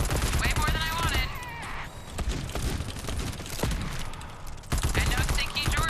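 Rapid gunfire in a video game rattles in dense automatic bursts, with occasional pauses, while players chat over the shooting.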